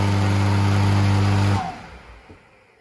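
A single-phase AIRE 80 C2 electric motor (2.2 kW, 3000 rpm) runs with a loud, steady hum for about a second and a half, then is switched off and winds down into quiet.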